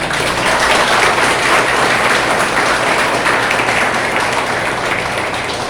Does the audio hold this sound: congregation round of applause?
yes